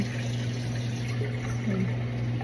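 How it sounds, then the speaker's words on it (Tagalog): Water pours steadily into a container to revive wilting flowers, a continuous close-up filling gush over a low steady hum. "Lalagyan tayo ng tubig."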